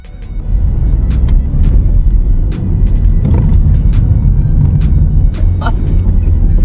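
Renault Mégane 4 accelerating hard and sliding through a corner, heard from inside as a loud, steady engine and road rumble with brief tyre and cabin noises, and people talking over it.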